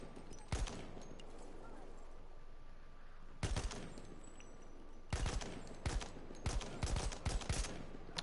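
Video game gunfire from Battlefield 1 cracks in sharp bursts, a lone shot followed by clustered rapid volleys, loud against a quieter background rumble.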